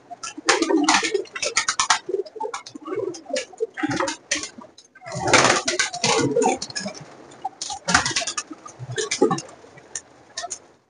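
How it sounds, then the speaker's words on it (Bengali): Giribaj pigeons in a large loft in Kolkata, with overlapping coos and bird calls that come in bursts through the clip over busy rustling and fluttering, loud and close, with no talk. "এই টোটাল এতগুলো পায়রা ওড়ানো হয়,"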